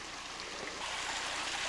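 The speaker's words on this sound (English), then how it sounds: "So this is Tom Baird Creek." Tom Baird Creek on the Juan de Fuca Marine Trail on Vancouver Island, a steady close rush of flowing forest water with a broad hissing babble that holds constant and grows slightly louder.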